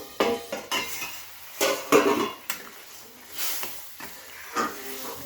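A pot of pumpkin simmering with a little water for a prawn and pumpkin curry is handled and covered, with irregular metallic clanks and scrapes of a lid and utensil over a faint background sizzle.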